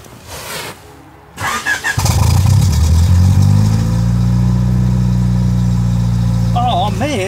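A third-generation Honda Prelude that often fails to start on the first try cranks with a few uneven, labored turns, then catches and settles into a loud, steady close-up idle, with a voice briefly heard near the end.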